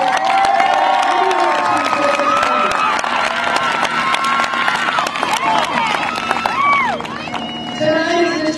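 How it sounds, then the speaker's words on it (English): Graduation ceremony crowd applauding and cheering for the parents, dense clapping with whoops and shouts from a large audience filling the space, steady and loud throughout with voices mixed in. "Please give a round of applause to your parents."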